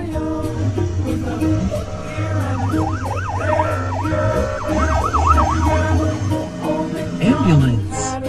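A cartoon ambulance siren wails in repeated rising and falling sweeps over a bouncy children's song melody, loud and close, with a brief extra siren swoop near the end.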